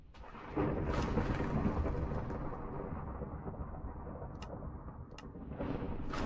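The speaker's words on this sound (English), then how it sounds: "let me turn that weather sound down" Thunderstorm weather in the SevTech Ages Minecraft modpack: a loud, close roll of thunder swells and rumbles for several seconds over steady rain, with faint sharp crackles later on.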